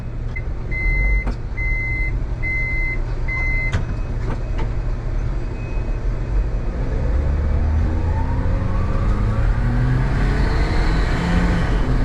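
A Daihatsu Mira kei car drives along as a few electronic beeps sound early on, then its small engine pulls harder, droning loudly and rising steadily in pitch as it accelerates.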